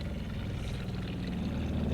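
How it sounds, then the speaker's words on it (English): An RV water pump in a 2026 Rockwood Ultra Lite 2618RD travel trailer runs steadily as it builds pressure, giving a continuous low motor hum with a watery rushing layer at moderate volume. "We're going to turn our water pump on."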